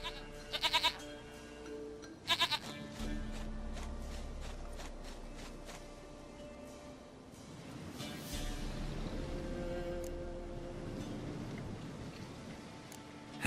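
A goat bleats in The Witcher 3, two short, bright bursts close together, over a soft game music bed and a low ambient drone.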